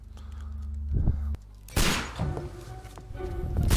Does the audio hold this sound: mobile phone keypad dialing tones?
no